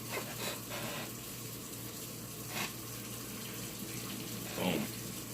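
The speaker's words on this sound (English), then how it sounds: "So much water, sounds like a waterfall in the background." Water runs from a tap in a steady, moderately loud rushing stream with a low hum beneath and a couple of brief splashy surges, with no clear talk.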